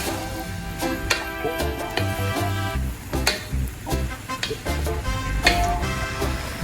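Beef pepper steak being stirred in a pan, a soft sizzle with irregular scraping and knocking of the utensil against the pan, close and moderately loud, with short pauses between strokes.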